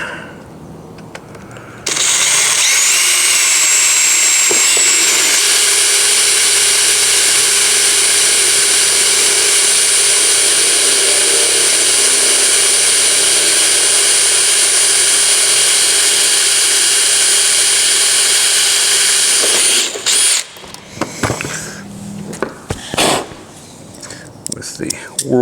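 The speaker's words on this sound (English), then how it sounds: "With the world's dullest drill bit." A power drill with a very dull bit drives screws into car dashboard trim, giving a loud, steady whine that holds for about seventeen seconds and then cuts off, followed by scattered handling clatter.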